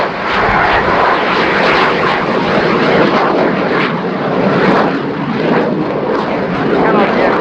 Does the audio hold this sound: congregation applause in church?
no